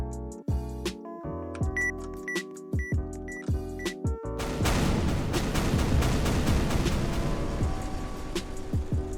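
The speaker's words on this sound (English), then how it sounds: "I'm gonna detonate this one bomb." A long line of explosive objects in a Roblox survival game goes off in a chain reaction: several sharp separate blasts first, then a dense, sustained roar of overlapping explosions, loud and with no talking.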